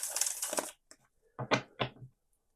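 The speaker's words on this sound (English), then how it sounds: "Get a good shuffle in here for you" Tarot cards are shuffled in two quick, crisp bursts separated by a short pause, close and fairly quiet.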